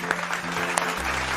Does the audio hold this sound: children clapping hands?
yes